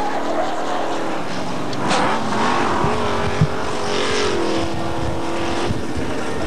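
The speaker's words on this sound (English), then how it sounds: "And Gary Monk spins out again" Hotstox stock cars race around the Buxton oval, engines droning steadily and rising and falling in pitch as they pass, with brief tire squeals in a continuous loud roar.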